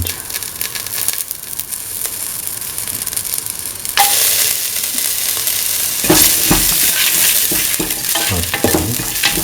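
Ginger and salt being stirred and tossed in a hot frying pan for a cottage cheese and ash gourd coconut milk stew: a loud, continuous sizzle with scraping utensil strokes that grows denser and busier midway, no talking.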